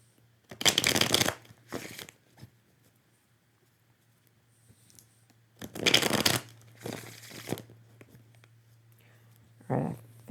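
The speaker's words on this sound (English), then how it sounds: "Let's do 3 more shuffles." Tarot cards are shuffled by hand in quick riffling bursts, three close crisp flurries separated by quiet pauses, with a faint steady hum underneath.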